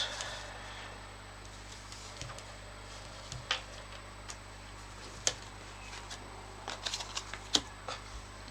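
Tarot-style cards shuffled and laid out by hand: soft, sparse card snaps and brushing slides up close, with a few sharper clicks as cards land, over a quiet steady low hum and no talking.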